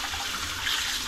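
Holy basil rinsed under running water while making pizza gives a steady, close, full splashing hiss that carries on evenly the whole time, with no voices.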